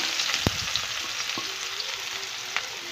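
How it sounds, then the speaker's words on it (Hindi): Onions fry in a hot pan for chicken kofta curry, a steady close sizzle with a few sharp pops and light stirring clinks. "इसमें डालेंगे प्याज।"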